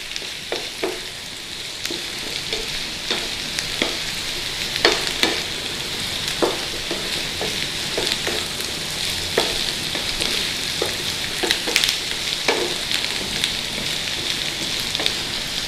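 Onions and garlic frying in a pan for corned beef hash, a steady crackling sizzle with frequent sharp pops and spatula scrapes, close and fairly loud, no talking.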